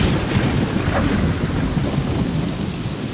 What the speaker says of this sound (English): That was a loud thunderclap.